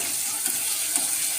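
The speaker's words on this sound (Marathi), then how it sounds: "टोमॅटो छान परतून घेऊ" Tomatoes sautéing with red chili powder in a pan give a continuous bright sizzle, close and even, with a couple of soft stirring taps.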